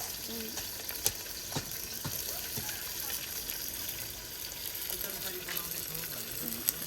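Fenugreek seeds, ginger, garlic and onion sizzle steadily in a pan as the base for a chicken curry, a continuous hissing fry with a few clinks and stirs while someone talks over it.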